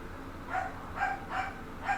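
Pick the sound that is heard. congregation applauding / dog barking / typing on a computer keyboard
dog barking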